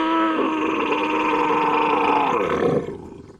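A human growl pitched down eight semitones becomes a deep, gravelly creature roar lasting about three seconds, close and sustained, then trailing off quickly.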